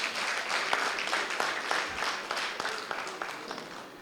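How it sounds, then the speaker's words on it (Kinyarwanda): Applause from an audience at a Rwandan diaspora Liberation Day (Kwibohora 27) gathering in Maine, a steady wash of clapping that holds for several seconds at moderate level without pause. "ndasaba mubampera amashyi menshi cyane"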